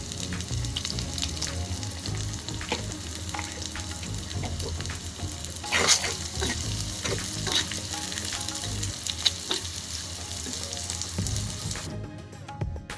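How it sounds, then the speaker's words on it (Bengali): Chopped onions, about a cupful, fry in hot oil for birista in a Bangladeshi biryani kitchen, giving a steady, close, dense sizzle with occasional stirring scrapes and no talking. "তেলটা গরম হয়ে গেছে। এখন আমি পেঁয়াজ দিতেছি।"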